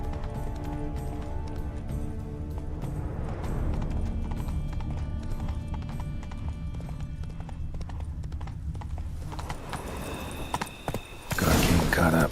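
Roach, a horse in The Witcher 3 game, gallops in a steady drumming rhythm of hooves, loud and close under musical score and game ambience, ending with a sudden burst of noise.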